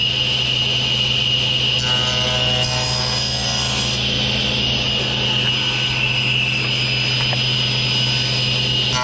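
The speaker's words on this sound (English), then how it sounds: "We're going to cut a little off one side and square that up and flip it over and cut the rest off." Power saw running steadily as it trims a wooden backing piece for a rabbet-jointed drawer box, a loud continuous whine with a low hum underneath and no breaks across the whole stretch.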